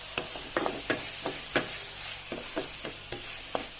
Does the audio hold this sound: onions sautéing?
yes